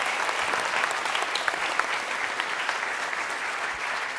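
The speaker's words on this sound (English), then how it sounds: "so I think let's clap" An audience in a university lecture hall applauds a guest chef, giving dense, even clapping from many hands that holds at a constant level throughout.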